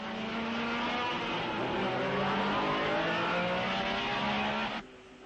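Porsche Formula 1 race cars, including Jo Bonnier's, run flat out at Spa in 1961, a loud, dense engine howl with rising pitch that cuts off abruptly near the end.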